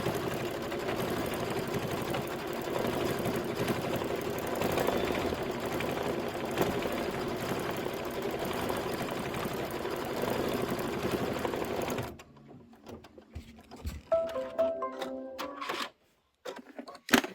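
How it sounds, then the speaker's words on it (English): A sewing machine runs steadily for about twelve seconds, laying a decorative stitch around a quilted pillow block, then stops; scattered small handling clicks and clatter follow in near silence. "we're going to go ahead and do this decorative stitch around it"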